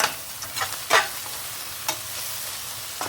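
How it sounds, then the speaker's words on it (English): Minced garlic cooks in a pan for a chicken dish with wine, cream, leeks and lemon, giving a faint, soft sizzle broken by a few sparse scrapes of stirring. "now we put in 2 teaspoons of garlic, and we let those cook for about 2 minutes"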